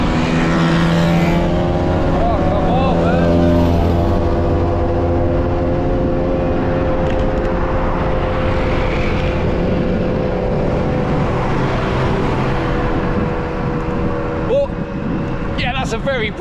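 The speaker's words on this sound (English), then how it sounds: "1970s Lambretta scooters bombing past you" A stream of 1970s Lambretta scooters roars past during a vintage bicycle ride, a loud continuous engine drone with several passes blending together and a sharper rasp near the end.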